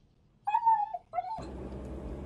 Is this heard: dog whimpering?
yes